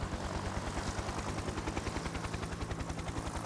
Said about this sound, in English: So we'll continue to move our helicopters